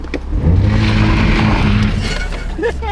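A stock Toyota Supra idles with launch control engaged, its low engine rumble holding steady and loud with a brief rise in revs, and wheels spinning slightly, while a person talks over it close by.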